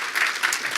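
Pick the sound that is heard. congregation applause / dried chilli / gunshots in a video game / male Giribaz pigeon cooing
congregation applause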